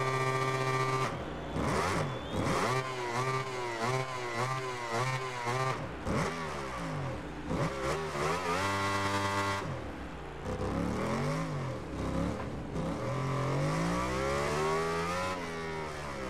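Racing motorcycle engines in the video game MotoGP 19 scream loudly and continuously, rising and falling through gear shifts and revs with sweeping pitch changes across the whole stretch.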